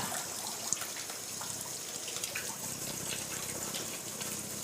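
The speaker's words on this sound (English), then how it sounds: "then I wash my hands with soap" Running tap water pours steadily into a sink while hands are washed with soap after handling raw meat and eggs in a home kitchen, a continuous close splashing hiss with no talking.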